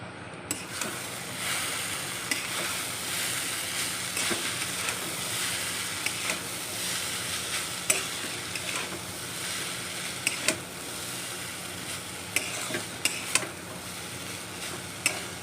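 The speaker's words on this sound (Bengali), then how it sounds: "আর এটাকে এখন সুন্দর করে একটু ভাজি" Chow mein noodles stir-fried in a pan give a long, steady sizzle with frequent clicks and scrapes of the spatula against the metal.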